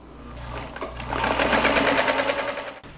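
A small portable travel sewing machine stitches quilt block pieces in one continuous, fast, close whirring run that starts up quickly, with no voices.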